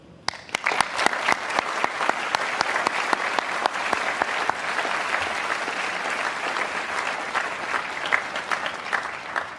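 A graduation audience breaks into sustained, dense applause for parents and families, steady and loud across the whole stretch with no speech over it.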